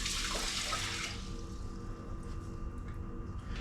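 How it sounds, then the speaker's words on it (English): About two cups of water pour into a pot of elderberries for syrup. A loud rushing splash lasts about a second, then settles into a quieter trickle and gurgle. "2 cups of water will go on top of that."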